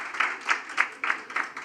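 A small group claps sparse, rhythmic, fairly close applause at a government ministry award presentation, roughly one beat every third of a second with no talk over it.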